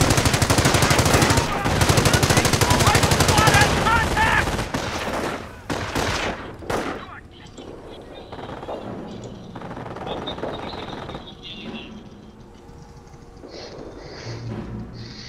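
Dense bursts of automatic gunfire and rattling machine-gun fire from the World War II strategy game Company of Heroes, loud and continuous at first, then thinning into scattered shots and distant firing.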